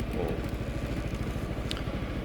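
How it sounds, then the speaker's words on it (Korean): A Yamaha XMAX 300 scooter sits idling, its engine giving a steady, even low pulsing that runs close and unbroken throughout. "지금 공회전 하고 있는데"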